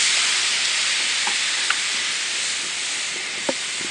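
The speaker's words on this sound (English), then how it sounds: "You can hear it sizzling, you can see it steaming." Steady loud sizzling hiss of asparagus cooking and steaming on a hot Himalayan salt block, with a few small pops and crackles.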